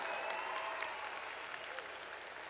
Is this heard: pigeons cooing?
no